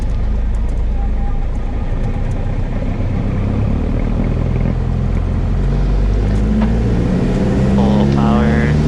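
A small airplane engine drones loud and steady at full power during takeoff, with a voice talking over the constant roar near the end.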